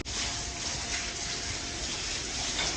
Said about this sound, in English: This Wax Museum actually has actual water running through it.